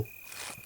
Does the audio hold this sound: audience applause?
no